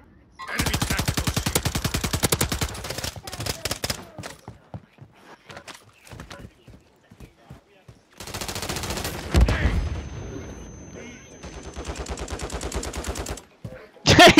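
Bursts of automatic gunfire from a Warzone 3 match in Vondel Park, loud rapid volleys at the start and again later, with scattered single shots, footsteps and game sounds between.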